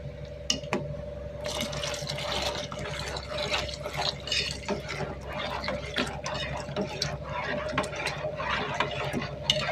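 Ragi porridge mixture is poured into a simmering pot on a stove, giving a soft, continuous liquid splashing and gurgling with small bubbling clicks over a steady low hum.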